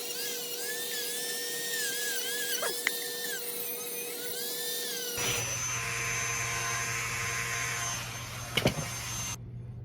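A Dremel rotary tool grinds along the front edge of a leather shoe sole during a shine and refinish, a steady high whine running throughout, shifting to a louder, rougher buzz partway through before cutting off near the end.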